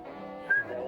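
A person whistles in a film scene, giving a short, clear whistled tone that rises briefly in the middle. It is fairly quiet and lasts under a second.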